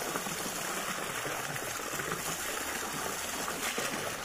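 Cold stream water flows in a steady, continuous rush, a broad even wash of sound with no talk.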